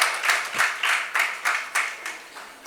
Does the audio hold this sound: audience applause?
yes